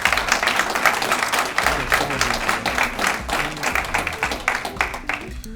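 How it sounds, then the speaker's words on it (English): Round of applause for young boys at a town State of the Town address, a loud, dense crowd clapping close by with dense individual claps, continuing for several seconds before thinning out at the end. "Give them a round of applause"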